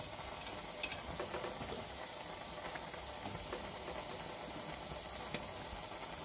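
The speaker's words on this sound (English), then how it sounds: "I'm just gonna allow it to cook a little bit more" Jamaican brown stew pork simmering in a pot gives off a steady, even hiss and soft sizzle, continuous throughout with a few faint clinks and no talking.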